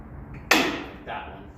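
A worn tie rod end on a Dana 44 solid axle from a Tahoe popping free of the steering knuckle without a puller: a single sharp metallic crack, close and loud, followed by a fainter secondary knock.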